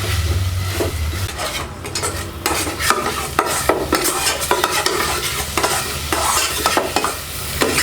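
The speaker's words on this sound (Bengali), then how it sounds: "সবগুলোকে সুন্দরভাবে আমরা কষিয়ে নিব।" Potatoes, eggs and spices being sautéed in a pan, with a spatula scraping and stirring in quick repeated strokes over a continuous close sizzle, with no voices.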